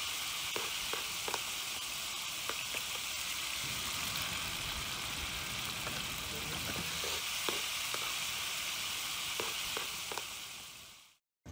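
Steady hissing sizzle of food frying for an outdoor breakfast in the mountains, continuous and close, with occasional faint clicks and taps of stirring until it cuts off at the end.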